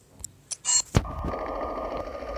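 A battered old telephone rings in the entrance hall of a building in Max Payne Mobile, a bright shrill ring in short bursts, then a sharp thud and a steady hum of background noise.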